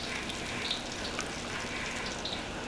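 Garlic frying in hot oil in a wok for mee goreng, a steady, even sizzle with faint crackles throughout, close and moderately loud with no talk.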